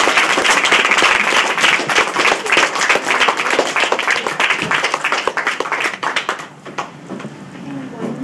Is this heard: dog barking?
no